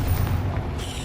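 A Confringo blast spell going off in the Hogwarts Legacy video game, a dense low rumbling boom filling a short moment with no pause.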